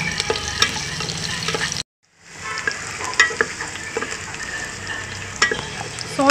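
Cloves, cinnamon stick and bay leaves sautéing in oil in a pan, a bright sizzle with stirring scrapes, cut by a brief silent gap before the frying resumes.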